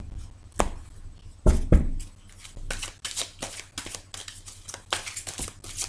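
Tarot cards being cut and shuffled by hand, a quick run of crisp riffling and slapping card sounds close up, with a couple of heavier knocks early and no talk.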